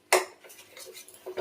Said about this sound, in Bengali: আমি খুন্তি দিয়েই ম্যাক্স করব।